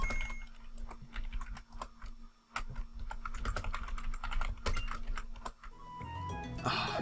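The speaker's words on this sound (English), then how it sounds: "Sorry, I'm just typing and stuff." Rapid, close typing on a computer keyboard, with a steady run of sharp key clicks and short pauses, then a brief burst of other sound at the end.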